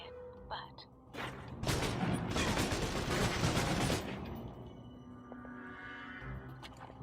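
Submachine gun fire in Alpha Protocol, a loud rapid burst lasting a couple of seconds in close quarters, followed by fading echoes and quieter game sounds.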